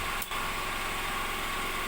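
A patrol boat's engine idles steadily at a village harbor pier in Pulau Pinang, Simeulue, Aceh, with a close, even, continuous hum and no talk.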